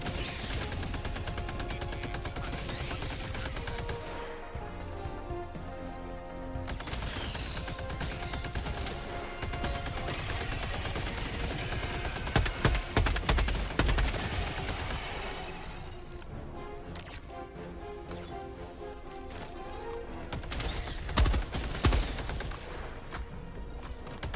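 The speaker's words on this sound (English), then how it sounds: "I'm gonna throw down a machine gun turret, which will help cover us, because there's about to be bugs coming from over there" In Helldivers 2, a machine gun turret fires at swarming bugs. Rapid, dense bursts clatter steadily within a busy, loud battle soundscape with music and effects running throughout.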